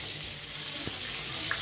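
Green chillies deep frying in hot oil for mirchi ka salan give a steady, dense sizzling hiss, moderately loud and close, with no talk over it.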